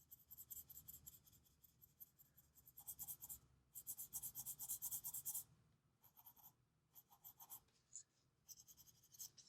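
Colored pencil scratching roughly and quickly across paper, a soft Chestnut pencil laying color down in messy, scribbling bursts with short pauses between strokes, close and dry with no talking.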